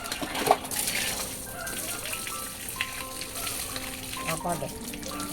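Tap water runs steadily in a home with a broad, hissing splash, while people talk over it and a few clinks and knocks sound nearby.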